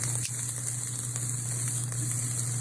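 Lobster and vegetables sauté for fried rice in a hot pan, giving a steady, loud, continuous sizzle from start to finish with a few soft clicks and no voices.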